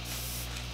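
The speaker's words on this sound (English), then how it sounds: "you just missed me spraying my face with that" A watermelon-scented makeup setting spray mists onto a face in one short, close, steady hiss with no talking.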